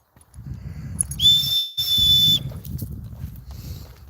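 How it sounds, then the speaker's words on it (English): A shrill, steady whistle, blown to call an animal, sounds in two long blasts, loud and close, with soft rustling and handling noise around them. "Because we got the Chunks whistle on there."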